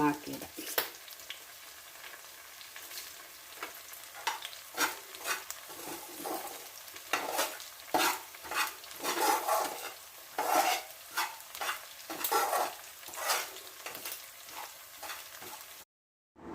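Grated coconut and drumstick pieces roast in a pan for a prawn curry, giving steady close crackling and scraping from stirring throughout, with occasional louder bursts and no voices.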